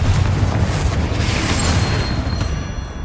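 A Bombarda blasting spell explodes in the Hogwarts Legacy video game, a loud, dense boom with a long rumbling roar that fills the clip and slowly fades.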